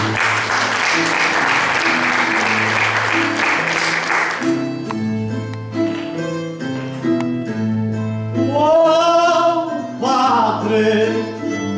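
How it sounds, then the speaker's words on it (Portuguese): An audience at an official book launch for a poetry collection claps in a dense, loud burst over background music for about four seconds. The applause then drops away, and the music carries on alone with sustained tones and a brighter melody. "juntei uma mão à outra mão, palmas ao Padre Coelho"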